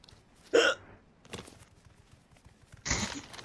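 Two loud, sudden hiccups, close and separated by a couple of seconds, with quiet rustling in between.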